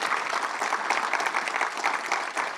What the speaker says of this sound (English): Yeah, clap it up, clap it up.